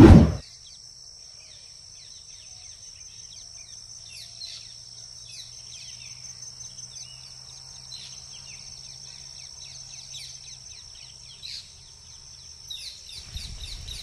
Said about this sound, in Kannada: ಮಾರ್ನಿಂಗ್ ಟೈಮ್ ನೋಡಿ ಪಕ್ಷಿಗಳ ಸೌಂಡ್ ಹೇಗೆ ಬರ್ತಾಯಿದೆ ಅಂತ